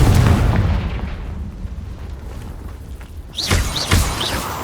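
Fiery Confringo spell blasts in Hogwarts Legacy: a long rumbling boom fading over a few seconds, then a fresh burst followed by several sharp, whooshing spell impacts close by.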